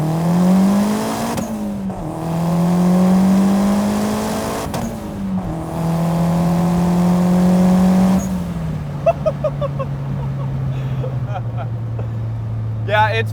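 A turbocharged 3S-GTE engine in a Toyota AW11 MR2 accelerates hard. The engine note climbs loudly through several gear changes, then settles into a lower, steadier drone.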